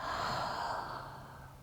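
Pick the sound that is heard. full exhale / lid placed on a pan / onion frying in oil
full exhale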